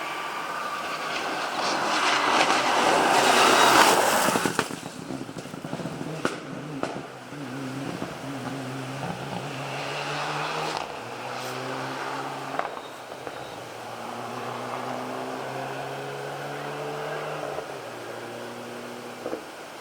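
Rally car on a gravel forest stage of the Mull Rally, its engine roaring loudly up close and then fading, with gear shifts and rising engine tones carrying over constant broadband wind and gravel noise.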